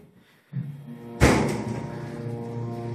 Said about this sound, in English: So it's got the cascading door.